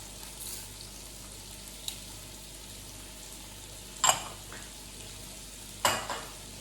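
Whole spices, fennel, bay leaf, star anise and cinnamon, hit hot oil with onions and curry leaves for lamb biryani, giving a quiet steady sizzle marked by two sharper crackling bursts as ingredients drop in.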